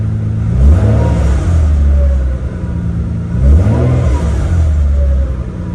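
A 1990s Nissan 300ZX engine fitted with an electronic boost controller is revved twice, each blip swelling into a loud, close roar and falling back to a rumbling idle.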